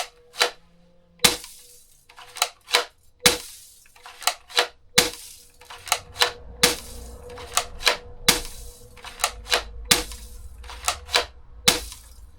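Shotgun shots fired at a target, a series of sharp, loud, cracking bangs at irregular intervals, some spaced apart and others in quick pairs, with no talking.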